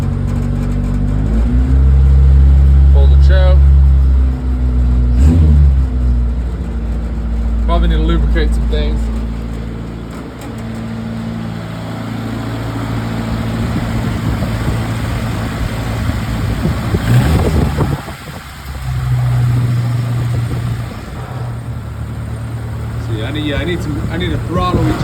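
A Suzuki Samurai engine runs warm without choke, idling with a low steady rumble and rising in a few revs, close and loud, while someone talks over it.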